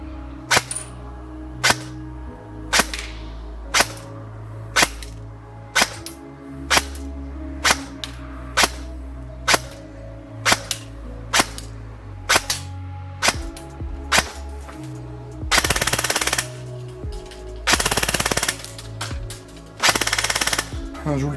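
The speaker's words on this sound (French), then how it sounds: "On va aller au test chronie et au test de tir" A Specna Arms SA-J06 Edge Aster V3 AK74 airsoft electric gun fires a steady series of sharp single shots, followed near the end by two loud, rapid full-auto bursts, close and with no talking.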